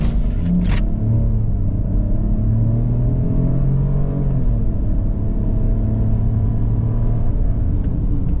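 Interior of a 2023 Ford Bronco Sport Heritage 4x4 with a steady engine and road rumble, the pitch slowly rising as it picks up speed, with a brief click near the start.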